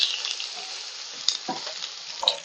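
Onions frying in a pan as oil is added give a bright, continuous hissing sizzle, close and fairly soft, with a couple of faint stirring knocks.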